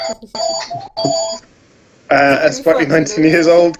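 A phone rings in a room, giving two short tonal bursts near the start before a voice speaks over the rest.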